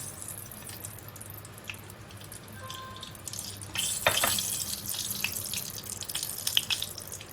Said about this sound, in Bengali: তেল দিচ্ছি